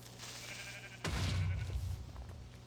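A Minecraft sheep gives a single bleat that starts abruptly partway through and holds for over a second, fairly loud over a low steady background hum.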